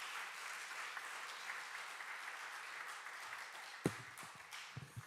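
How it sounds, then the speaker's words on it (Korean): A church congregation applauds during a Korean worship service, a steady, quiet wash of many hands clapping at a distance, with a few sharper nearby claps toward the end. "우리 아버지 하나님께 영광의 박수를 보내고"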